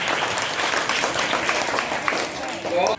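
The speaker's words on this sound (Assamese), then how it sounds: "এটা হাত চাপৰি মৰা, তাই ঘৰলৈকে শুনাকে।" A classroom audience claps for a student during an Assamese pronunciation lesson, with steady, dense applause filling about three seconds amid some voices before it stops abruptly.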